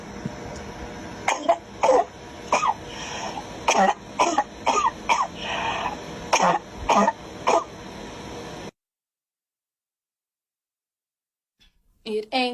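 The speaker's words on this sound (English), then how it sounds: "Cough it up." Several people cough and clear their throats in a rapid string of short, loud bursts mixed with voices, then silence falls before a brief sound returns at the end.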